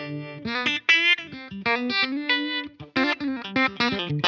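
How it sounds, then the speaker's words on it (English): Electric guitar played through a Fender Mustang Micro headphone amp with a harmonic tremolo effect: a string of picked notes and chords, bright and pulsing, close and clean with no voices. "Next, harmonic trem."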